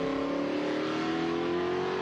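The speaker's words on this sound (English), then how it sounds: "That's a 427 big block Chevy engine in that car" A 427 big block Chevy V8 in a Group 6 race car at Circuit of the Americas roars steadily and revs upward, loud and close, with no voices over it.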